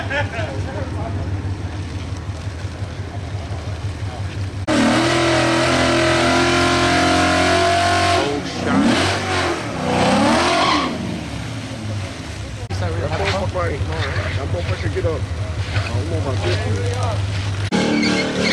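All-motor drag race cars rumble at the line, then launch with loud roaring engines whose pitch sweeps up and down through the gears; voices are heard talking under the engine noise.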